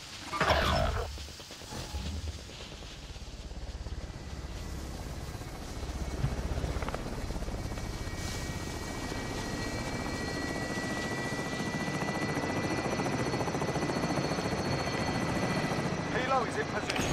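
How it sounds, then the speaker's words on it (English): A helicopter in the Call of Duty Modern Warfare video game, Plunder mode, flies close with a loud, steady rotor drone that holds for the whole stretch, rising slightly, alongside other game sounds. "I'm gonna call the helicopter over here."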